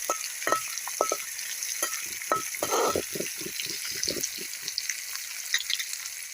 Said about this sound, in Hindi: तो इसे हमें ज़्यादा नहीं फ्राई करनी है, इस प्याज को बस हल्की सी सॉफ्ट हो जाइए